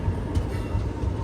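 Machilipatnam–Kollam special train, a Sabarimala pilgrim service held for maintenance, producing a steady low rail rumble with faint clanks throughout, close and continuous with no voices.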